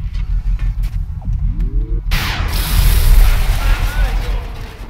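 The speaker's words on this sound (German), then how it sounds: "Gezielter Schuss" A sniper's aimed shot in the strategy game XCOM: Enemy Within: a sudden loud boom cuts in midway, then a sustained noisy roar and rumble over a low droning game soundtrack.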